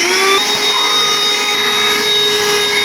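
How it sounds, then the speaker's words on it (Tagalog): A wireless floor vacuum cleaner runs steadily at close range, a loud continuous whine and rushing airflow with no talking over it. "sinet up ko na itong vacuum ng pangsahig"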